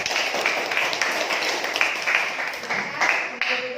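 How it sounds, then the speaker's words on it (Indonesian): Applause from a classroom audience for a student group that has just finished presenting a poem, steady scattered clapping for a few seconds that thins near the end. "Ya, tepuk tangan untuk kelompok 3."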